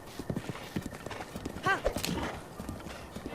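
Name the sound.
horse hooves clip-clopping in The Legend of Zelda: Breath of the Wild video game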